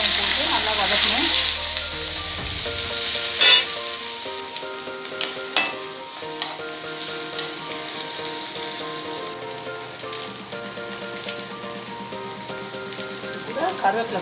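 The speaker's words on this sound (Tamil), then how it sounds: "வெங்காயம் போட்டு நல்லா வதக்கணும்." Onions sauté in a pan for pepper mutton fry. A loud burst of sizzling settles into a steady crackle, broken by occasional spoon knocks and stirring scrapes.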